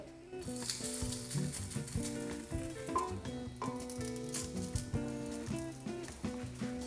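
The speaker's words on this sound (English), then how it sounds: "So I'm just going to fry off a small amount of the mixture." A small patty of vegan sausage mixture made with pearl barley sizzles steadily in a frying pan, with a constant crackle under clear background music and no talking.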